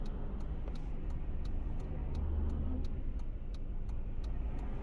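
Road traffic hums low and steady at moderate distance in an area busy with evening commuters, with cars passing under a repeated faint ticking sound.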